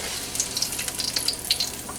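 Thin wonton wrappers fry in hot oil in a wok with a close, crackling sizzle, a run of fast bright pops and spits over a soft steady hiss.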